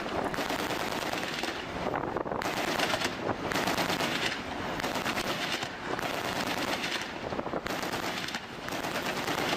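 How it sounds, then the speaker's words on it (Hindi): Heavy automatic gunfire from a US Coast Guard vessel aimed at a suspected drug boat, sustained loud bursts of rapid shots with brief pauses, plus wind buffeting the microphone. "इस बोट पर कैसे अंधाधुंध फायरिंग की गई"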